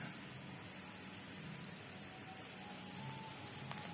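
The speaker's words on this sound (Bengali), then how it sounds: "বাইরে বৃষ্টি প্রচুর।" Heavy rain pours down outside as a steady, dense hiss of drops on surfaces, quiet and even for the whole stretch with no voices.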